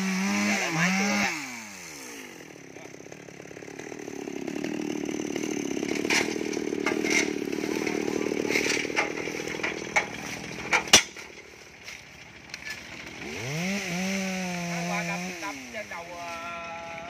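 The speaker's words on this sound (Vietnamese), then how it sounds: "Giờ lấy máy cưa ra." A chainsaw revs up, then cuts a large old tree with a steady, loud droning whine, and the engine swoops in pitch at the start and end.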